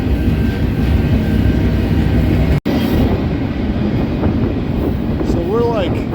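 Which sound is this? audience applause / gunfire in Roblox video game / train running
train running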